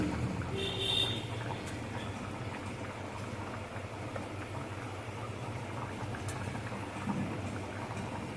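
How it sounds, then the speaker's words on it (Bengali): Rohu fish curry broth with mixed vegetables simmers steadily in a pot with a soft, continuous bubbling hiss, close by and even in level throughout. "এবার আমার ঝোলটা ফুটছে"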